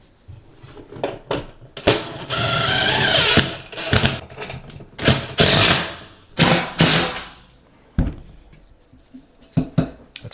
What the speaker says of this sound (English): mount this bracket on the wall here with some lag screws